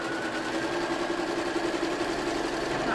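A sewing machine stitching a seam on a Spring Twist rail fence quilt, running as a steady, continuous mechanical whir with a rapid needle rhythm, close and even throughout.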